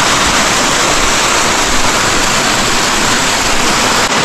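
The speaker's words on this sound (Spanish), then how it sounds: "Estoy llegando a una cascada" Waterfall inside the crater of the active Pululahua volcano in Ecuador, a loud, steady broadband roar of falling water filling the whole stretch with no breaks.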